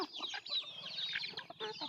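Free-range country chickens cluck softly while pecking at rice and broken grain, a faint, busy patter of short clucks with no talk.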